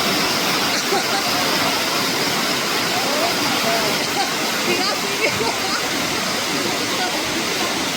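Catawba Falls waterfall on a North Carolina hiking trail roars as a steady, dense wash of rushing water that fills the whole clip, with faint voices in the background.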